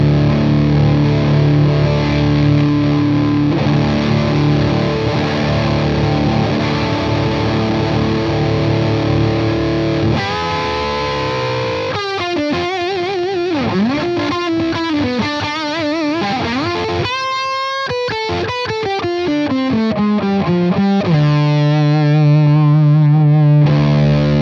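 A distorted electric guitar through a Vemuram Shanks 4K overdrive pedal, on the second channel of a Smallbox amp: a long sustained crunchy chord, then single bent notes and quick phrases, ending on another held chord, with no voices.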